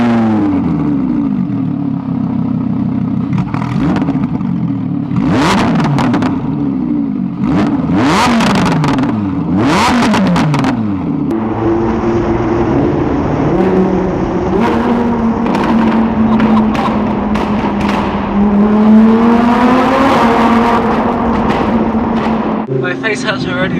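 Lamborghini Huracan fitted with a modified exhaust fires up and revs hard, loud close-up engine blips rising and falling, then a sustained throaty drone as it pulls away, with a sharp burst near the end.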